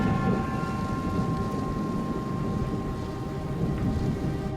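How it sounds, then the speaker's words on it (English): Thunder rumbles around an airport during a storm, a low, continuous roar under steady rain noise with no distinct claps. "thunder begins to reverberate around the airport"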